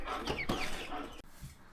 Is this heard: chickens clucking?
yes